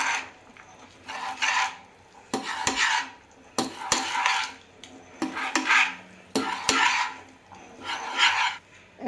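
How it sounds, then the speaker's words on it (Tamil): Lemon rice with chopped coriander is stirred in a pan, a spoon scraping and rasping against the metal in repeated strokes with short knocks between them, close and clear with no talking. "இப்போ கிண்டி விட்டுக்கலாம்."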